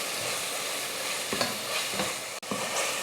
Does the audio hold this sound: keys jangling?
no